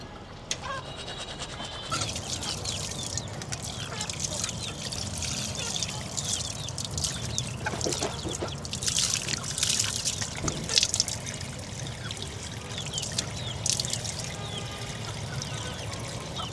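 Water runs and splashes steadily as someone washes their face outdoors, with a continuous trickling pour broken by louder splashing bursts throughout.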